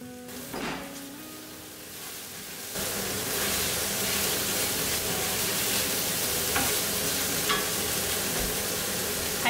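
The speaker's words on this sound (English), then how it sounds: "I'm making bolognese," Minced meat sauce for bolognese sizzles and fries steadily in a pan at close range, with a loud, continuous hiss and occasional stirring scrapes; the sizzle swells after a quieter opening few seconds.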